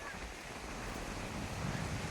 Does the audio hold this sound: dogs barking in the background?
no